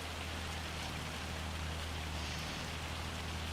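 Rain-snow mix falling in the farming video game Farming Simulator 25, a steady, even hiss of precipitation over a low constant hum, faint and unbroken throughout.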